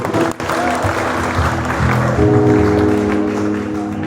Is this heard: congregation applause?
yes